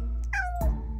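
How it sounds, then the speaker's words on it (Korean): A cat gives one clear, drawn-out meow up close, its pitch sliding downward, followed by a brief thump. "좋으면 야옹 한번 해줘."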